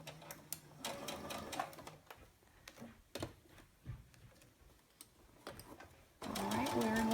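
Sewing machine stitching fabric for a wristlet's side seams, running over pins, heard in several short bursts of rapid mechanical chatter with pauses, ending in a louder sustained run.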